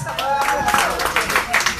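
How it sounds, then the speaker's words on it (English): Meeting audience applause: brisk clapping from a crowd, mixed with overlapping voices throughout. "Give yourself a round of applause."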